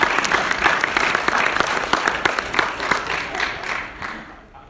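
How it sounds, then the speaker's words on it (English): A theatre audience gives a burst of loud, close applause that holds steady for a few seconds and then tapers off as the clapping fades. "Let's give Keith a round of applause."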